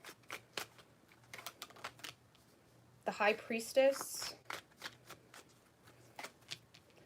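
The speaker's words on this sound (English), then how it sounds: "I'm going to just give it a quick shuffle." Tarot cards given a quick shuffle during an all-signs tarot reading: a brief, close burst of riffling card noise in the middle, set between stretches of speech.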